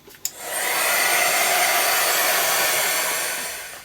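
A handheld dryer blasts air to dry paint on an art journal page, clicking on and then whooshing loudly and steadily up close before beginning to wind down.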